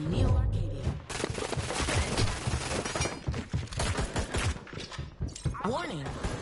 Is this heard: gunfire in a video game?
yes